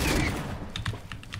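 Rapid bursts of gunfire from a video game weapon, likely a shotgun, rattle off in a loose series of sharp cracks after a brief noisy opening, moderately loud throughout.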